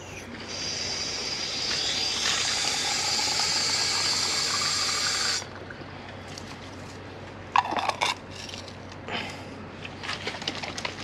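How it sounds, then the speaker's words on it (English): Water pours steadily into a glass jar half filled with garden soil, making a close hissing rush for about five seconds. A few faint handling knocks follow. "And now I add water to the jar, leaving about 1 centimetre at the top."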